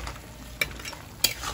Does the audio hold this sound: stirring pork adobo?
yes